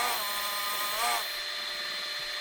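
Wood lathe spinning a large pine cone bowl, too big for the machine, runs with a steady high whine that briefly swells and wavers as the machine starts to shake, then settles back to a constant hum.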